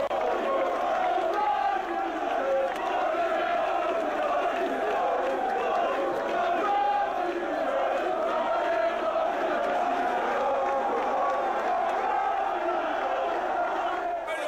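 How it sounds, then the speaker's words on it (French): A dense crowd at a political carnival rally shouts and cheers continuously, a loud roaring wall of voices with whoops rising over it and no pauses. "C'est la foule qui parle. Filmez la foule"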